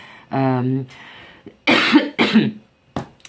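A short voiced sound, then a burst of harsh coughs close to the mic, two or three in quick succession, followed by a faint click.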